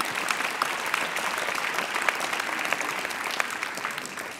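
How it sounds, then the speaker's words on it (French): Dense, steady applause from an audience at the Cap'Com 2019 Grand Prix award ceremony fills the whole stretch, with a few sharper individual claps standing out and no speech over it. "Sous vos applaudissements."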